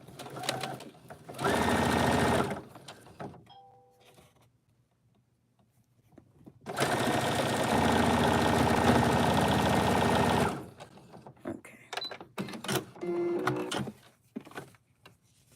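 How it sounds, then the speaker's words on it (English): A sewing machine stitches a quilt late at night in two bursts, a short run and then a longer steady run lasting several seconds. The motor hum is loud and continuous, with quiet handling noises in the pauses and no speech. "The way it's going to sew above that."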